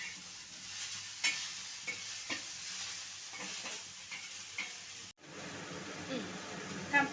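Okra (bhindi) frying in a pan, a steady sizzle with repeated scraping stir strokes, close and moderately loud, briefly cut off near the end before sizzling resumes.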